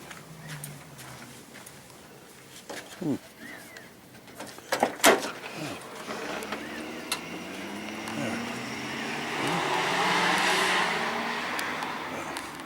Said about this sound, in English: car goes by and I get quiet